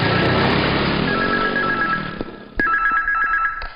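A telephone rings in short repeated electronic trills in an indoor scene from a Hindi-dubbed South Indian action film, loud and close, with background bustle that fades as the ringing continues alone.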